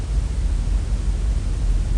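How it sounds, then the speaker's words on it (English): Gray noise plays as a continuous static rush. It is loud and weighted toward a deep, rumbling low end, steady throughout, with no talking. "This is gray noise."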